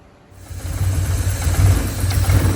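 A Porsche 944 daily driver with a fault that keeps it from revving past 3000 rpm sits at idle, a steady low rumble that rises from near silence into a constant, close mechanical drone.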